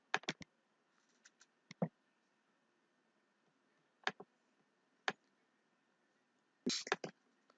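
A computer mouse clicks sharply while someone edits a design in Silhouette Studio. Single and double clicks come in irregular bursts, close and crisp, with near silence between them.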